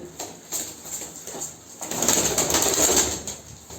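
Soft pigeon cooing from a group of about thirteen pigeons repeats nearby, with a rustle and flutter of birds partway through.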